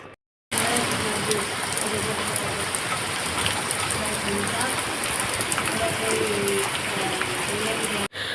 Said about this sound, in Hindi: जैसे ही बहुत तेज़ की बारिश होने लगी थी